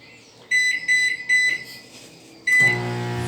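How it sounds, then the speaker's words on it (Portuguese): A faulty Panasonic microwave oven that makes a strange noise and does not heat gives several sharp electronic beeps in an uneven rhythm, then starts a loud, continuous buzzing hum. "micro-ondas Panasonic com barulho estranho e não esquenta"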